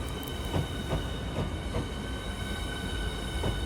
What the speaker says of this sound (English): As you can see, it's quite a long train.